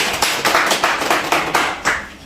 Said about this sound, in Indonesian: tepuk tangan buat kelompok di belakang